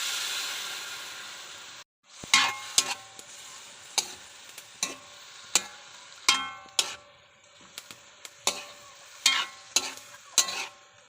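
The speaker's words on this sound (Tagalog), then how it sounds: "Haluin lang natin ng maigi." Adobong sili sizzles in a pan while a spoon stirs it, a continuous hiss broken by a short pause, then a regular series of sharp metallic clinks and scrapes against the pan, close and alone without talking.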